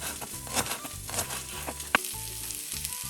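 Leek pieces sizzle and fry steadily in a pan, a continuous crackling hiss with soft stirring scrapes and one sharp clack near the middle, close and moderately loud with no talking.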